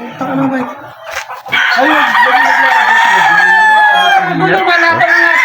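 Several fighting-breed roosters crow loudly and overlapping, with hens clucking around them, a close and busy farmyard chorus with a brief voice early on.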